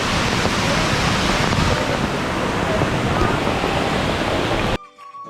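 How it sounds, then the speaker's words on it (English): Abbey Falls waterfall in Madikeri roaring as a loud, dense, continuous rush of falling water from a viewing platform, cutting out abruptly near the end. "Check out the waterfall and the sound of water from the viewing platform at the top."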